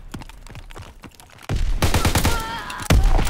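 Rapid bursts from a turret machine gun in a WW2 video game, with sparse clicking at first, then a sudden loud stretch of continuous automatic fire and a final heavier volley.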